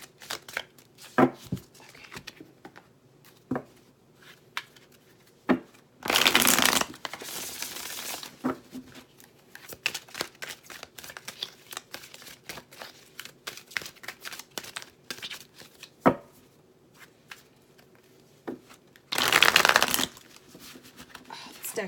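A tarot deck shuffled by hand during a reading: two short, loud, riffling bursts of card shuffling, separated by quieter taps, handling noises and someone talking.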